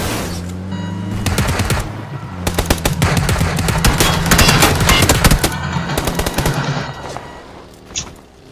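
Heavy gunfire in a shooter video game crackles in long automatic bursts and dense volleys over a low droning background, loud and close, tapering off near the end with a final lone shot.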